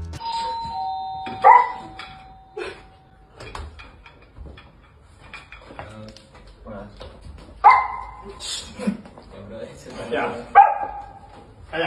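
A man imitates a barking dog with short, loud, barking shouts, while doorbell chimes ring out and several other people talk around him.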